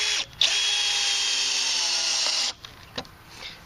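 A SEKGHY 20v cordless drill whines steadily at close range for about two seconds while driving a deck screw into a board, then stops, followed by a few faint clicks and handling noises.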